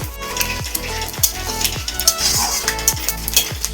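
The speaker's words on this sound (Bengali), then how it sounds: "সব মাছ ভাজা হয়ে গেছে এবার তার তেলের মধ্যেই তার চিনি লবঙ্গ এলাচ শুকনো লঙ্কা গোটা জিরে রন দিলাম" Whole spices (cloves, cardamom, dried red chillies, cumin seeds) and a little sugar frying in oil left over from frying katla fish: a steady close sizzle with clinks of a stirring spoon, under louder rhythmic music.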